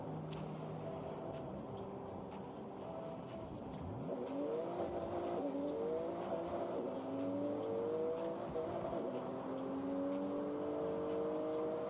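Porsche racing through a speed zone in Forza Horizon 6 in Japan, its engine droning steadily and then climbing in pitch through repeated upshifts as it accelerates hard, loud and continuous with no talking.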